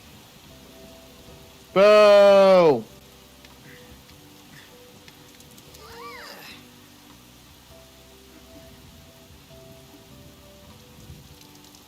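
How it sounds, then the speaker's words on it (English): Rain falls during a fireworks festival scene in the video game Persona 5 Royal, a soft, steady patter running under quiet game music, broken early by a brief loud vocal shout. "Rain."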